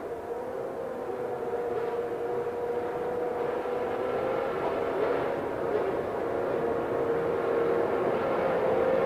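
Distant racing engines from the tail-end Formula 1 cars, including Nakajima's yellow Lotus, at the 1989 San Marino Grand Prix, a steady droning roar that swells slightly as the cars come round.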